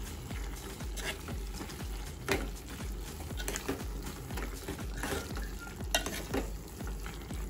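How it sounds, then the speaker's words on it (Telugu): Chili powder stirred into a broad bean and tomato curry frying in a pan, with a continuous sizzle and repeated close scraping strokes of a spoon at a steady rhythm. "వేసుకొని ఒకసారి కలుపుకున్నాము."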